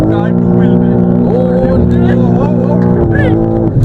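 A BMW M3 in two-wheel drive spinning its tyres, its engine holding a loud, steady droning roar throughout with some rising pitch shifts, under a background of crowd voices.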